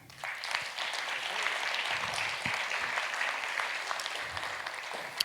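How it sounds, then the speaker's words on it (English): Steady audience applause at a jazz music intensive, many hands clapping together in a dense, sustained wash lasting about five seconds, with a few louder individual claps standing out. "How about a round of applause for Max Colley, Jr.?"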